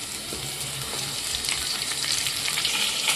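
Onion, chopped garlic and slit green chillies frying in a pan for chilli soya chunks, a dense steady sizzle with faint utensil scrapes, no one speaking.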